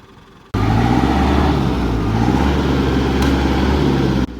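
A vehicle engine revs hard and steadily for a few seconds while it is freed from sticky mud beside a plantation at the edge of Sumatran forest, loud and close, cutting off abruptly.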